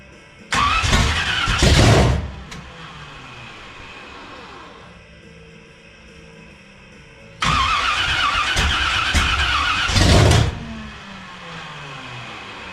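A car engine fitted with a Comp Cams Mutha Thumpa cam cranks hard in two long bursts, a loud rhythmic churning of the starter with a near-catch, separated by a quieter pause with a low background hum.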